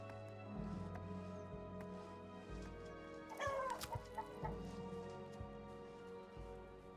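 Chickens clucking in the video game Colony Survival, a few short clucks and a sharper squawk burst midway over a low, steady hum of game ambience, fairly quiet and close.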